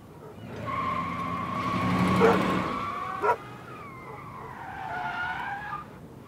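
Tyres screech in a skidding car in the video game Life Is Strange, a long tonal squeal that rises and falls with a sharp bump midway, then a second fainter squeal trailing off.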